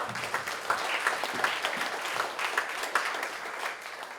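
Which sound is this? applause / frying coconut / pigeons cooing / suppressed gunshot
applause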